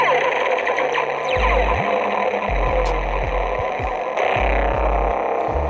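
A Saberforms Redeemer MK3 lightsaber running the Electric Essence sound font gives a loud, steady electric hum with repeated deep swooshing swings and a brief crackling flare, all up close and uninterrupted.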